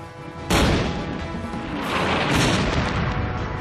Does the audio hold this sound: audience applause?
no